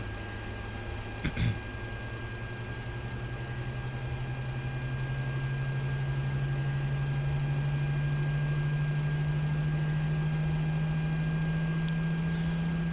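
C-17 jet engine starting up in a flight simulator game: a low, steady tone rises slowly and grows louder as the engine spools up, with a brief click near the start.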